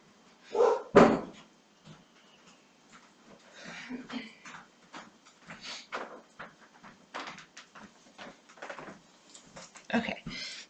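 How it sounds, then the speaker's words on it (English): A dog barks a couple of loud times early on, then softer thuds and rustles follow with occasional low woofs in the background. "Our dog is barking, and he's going to get louder."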